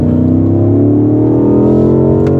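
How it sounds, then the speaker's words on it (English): A 2018 BMW M5 F90 accelerating hard on track at Sepang, its engine note rising steadily, loud and close from inside the car, with no talk. "So the outlap of the BMW M5, we're chasing Kenneth in the 530i, and feels good"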